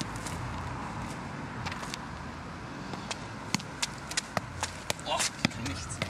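A hard football bouncing and being kicked on a parking lot, with sharp intermittent thuds that grow more frequent toward the end over a steady background hum.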